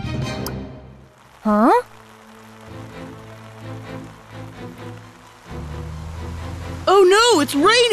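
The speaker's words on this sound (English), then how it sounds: "rain! It's really coming down." Heavy rain in a children's dinosaur cartoon, a steady hiss of downpour running under animated character voices and musical tones, with bright vocal cries near the start and end.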